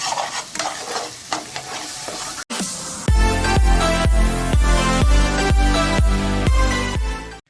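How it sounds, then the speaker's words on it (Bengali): An egg fries with spices in a pan, giving about two seconds of sizzling broken by stirring scrapes, then loud rhythmic music with strong regular beats takes over. "এবার ডিমটা সব মশলার সাথে খুব ভালো মতো মিক্স করে ফ্রাই করে নিচ্ছি"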